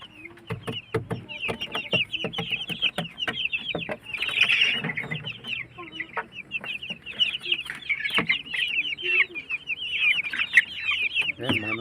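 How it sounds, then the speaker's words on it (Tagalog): Young roosters and hens about two weeks old cluck and chirp busily and close up, with frequent overlapping calls throughout and a few faint thumps beneath. "mga nananabong na yung mga ano, tandang"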